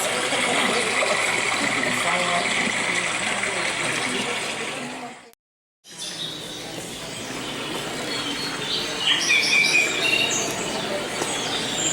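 Bright, high chirping from birds in a forest over a steady rushing wash of a river over stones, with a brief gap of silence midway.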